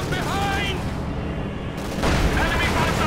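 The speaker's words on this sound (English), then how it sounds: "There we go, Panzer IV taking a nasty hit." A Panzer IV tank takes a hit from gunfire amid Company of Heroes 2 battle noise, with a heavy boom bursting in around the two-second mark; a voice talks over the fighting at the start and end.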